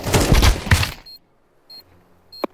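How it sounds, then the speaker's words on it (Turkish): Burst of gunfire in Counter-Strike 2, a loud rattle of rapid shots at the start that cuts off sharply, followed by near-silence with faint game tones and one sharp click near the end. "Silah seslerini duydum."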